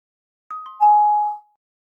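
A Microsoft Teams speaker test plays a short two-note electronic chime, a high ding followed by a lower sustained tone, clean against silence.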